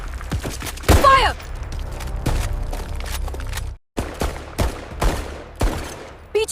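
Dramatized shootout with rapid, loud gunfire bursts, many sharp close shots in quick succession, a yell early on, and a brief silent gap before more scattered shots.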